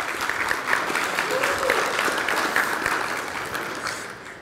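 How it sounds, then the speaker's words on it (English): Conference audience at a Linux tech gathering applauding together, a steady dense wash of clapping that holds evenly through the whole stretch and eases slightly toward the end. "So give yourselves a round of applause."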